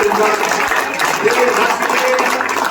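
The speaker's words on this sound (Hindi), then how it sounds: "जोरदार ताली बजाओ।" Audience applause at a Mukundgarh election discussion program, a dense steady wash of many hands clapping throughout, with voices talking faintly underneath.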